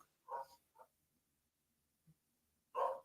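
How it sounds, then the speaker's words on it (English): Dog barking in the background of a quiet room, a couple of short mid-distance bursts followed by a louder bark near the end, with long silent gaps between. "That's a dog in the background."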